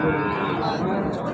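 Sahiwal cattle moo at a busy cattle market, a loud, drawn-out call that fills the whole moment over steady crowd and market noise.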